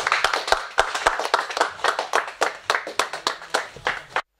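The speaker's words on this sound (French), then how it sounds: "Applaudissons pour la parole." A church congregation claps during a French-language worship service, a loud burst of irregular close hand claps that stops abruptly near the end.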